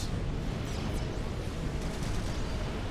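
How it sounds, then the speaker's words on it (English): Missile barrages in Supreme Commander strike with a dense, continuous rumble of overlapping explosions and booms, loud and unbroken throughout. "3 missiles, only 1 TMD up. Another barrage inbound."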